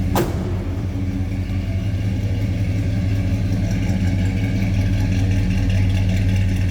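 A 1968 AMC Ambassador's V8 engine idles steadily with a deep, loping rumble after a brief click at the start, loud and close.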